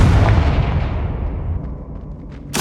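Confringo fire spell in Hogwarts Legacy going off as a loud, sustained blast that rumbles and slowly fades, with another sharp burst starting right at the end.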